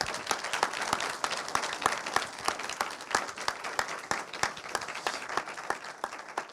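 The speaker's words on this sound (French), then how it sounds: "Et bien écoutez, on peut t'applaudir quand même très fort." An audience applauds a speaker named Xavier after a talk on artificial intelligence, dense, sustained clapping from a room full of people with no voices over it.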